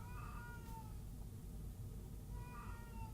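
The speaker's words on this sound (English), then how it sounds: "if you can hear a cat howling in the background" A cat howls in the background, two drawn-out wavering meows several seconds apart, faint and distant over a steady noisy room hum with no talking.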